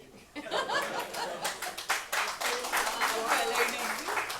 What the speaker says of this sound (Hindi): एक ताली बजिए